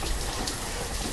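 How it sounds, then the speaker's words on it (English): Steady broadband rain hiss falling in the city-building game Banished, a dense, even patter with no talk, continuous through the brief moment. "It's raining."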